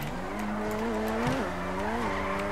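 A simulated Mazda RX-7 Veilside drifting in GTA V: a loud engine drone with rising and falling revs under sustained tire squeal, with a sharper skid-like break midway through.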